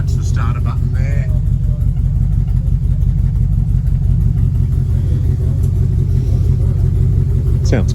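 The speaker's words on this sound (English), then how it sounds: "The old Y-block V8. like that deep V8 exhaust note" A 1957 Ford F250's old Y-block V8 runs with a deep, steady low rumble at idle, loud and close, with voices talking over it.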